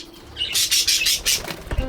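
Pet budgies in a breeding aviary beat their wings in several loud, rapid bursts of flapping, with brief chirps mixed in, close by and with no talking.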